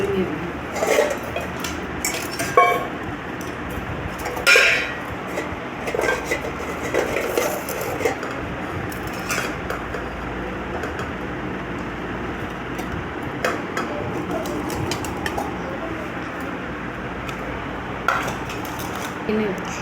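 Steel bowls clink and clatter as food is placed into them and lids are set on, giving intermittent close metallic knocks and taps while a person talks over the activity.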